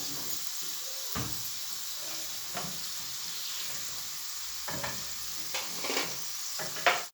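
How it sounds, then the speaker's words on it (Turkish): Potatoes frying in hot oil, a continuous close sizzle with occasional scraping and stirring knocks from a utensil in the pan, no talk. "sıvı yağın içerisine ilave edeceğim. Güzelce kızartacağım."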